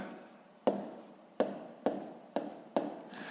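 Numbers are written by hand during a sixth-grade math exercise, with five or six sharp pen strokes on paper, each a quick tap followed by a short scratching tail, close and quiet with no speech.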